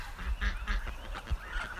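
Adult ducks let out into a yard give a string of close, honking quacks in uneven bursts, fairly faint overall with no talk over them.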